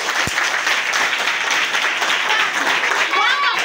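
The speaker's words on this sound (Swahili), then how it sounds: "Hadi tupigie makofi." Dense, steady clapping from a group of children fills the whole stretch, a continuous round of applause with a single sharp knock near the start.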